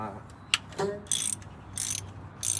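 A ratchet with a 1/2 inch socket breaking loose rocker arm bolts on the engine of a 1981 Dodge Mirada dirt track car left abandoned for years, giving several short bursts of quick clicking, close and fairly quiet.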